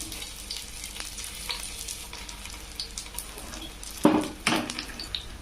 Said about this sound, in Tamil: ஒரு பேனில் எண்ணெய் ஊற்றிருக்கேங்க. இதில் வந்து நம்ம அப்படியே ஷேலோ ஃப்ரை மாதிரி பண்ணிக்கலாம்.